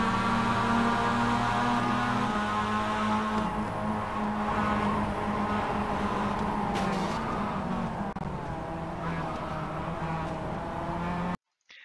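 A Mazda MX-5 race car engine in the iRacing video game drones steadily from onboard, its pitch shifting as it changes gear and slowing toward the end before cutting off abruptly.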